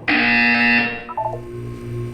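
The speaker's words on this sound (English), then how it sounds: "You will hear a buzzer." A buzzer in the Portal 2 video game sounds one loud, harsh electronic tone for nearly a second, then drops into a lower, quieter hum that trails off.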